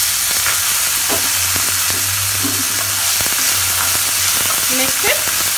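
Vegetables fry in a pan with nuts for a dhaba-style pulao. A loud, steady sizzle runs throughout, with occasional stirring clatter and a low hum beneath it, and no talking.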